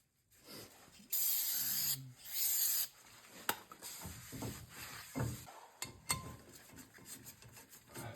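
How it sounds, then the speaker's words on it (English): Brake cleaner sprayed from an aerosol can onto front brake rotors of a 2013 Kia Soul, two loud hissing bursts close by, followed by rubbing and clattering handling noises in a garage. "Spray them with some brake clean."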